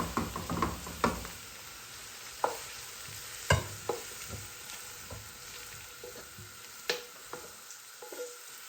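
Okra (bhindi) frying in oil in a pan gives a steady close sizzle, broken by irregular scraping stir strokes and a few sharp clacks of a spatula against the pan. No one speaks.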